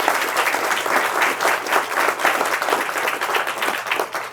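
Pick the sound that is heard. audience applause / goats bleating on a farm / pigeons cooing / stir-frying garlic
audience applause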